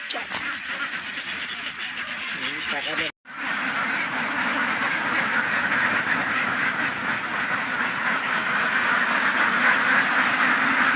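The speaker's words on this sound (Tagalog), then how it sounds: "pupuntahan po natin yung mga alagang itik natin, sisilipin po natin ano nang mga ganap doon" A flock of domestic ducks quacking nearby, dense overlapping calls forming a loud continuous chatter, broken by one brief silent cut after about three seconds.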